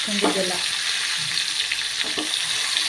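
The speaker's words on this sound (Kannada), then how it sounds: "ಇವೆಲ್ಲ ಹಾಕಿದ್ಮೇಲೆ ಹಿಂಗೆ ಒಂದು ರೌಂಡ್ ಎಣ್ಣೆ ಒಳಗೆ ಹಾಕ್ಕೊಂಡು ಕರಡ್ಸ್ಕೊಬೋದು" Ridge gourd and brinjal stir-frying in oil, a steady close sizzle with clattering stirring scrapes coming in short bursts throughout.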